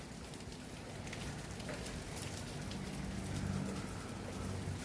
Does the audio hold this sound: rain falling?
yes